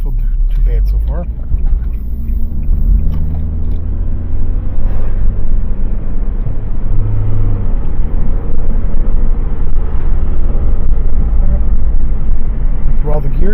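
A Nissan with a history of transmission trouble drives along, its engine droning loud and close as it climbs and drops through the gears, with a steady road rumble underneath and a voice talking over it.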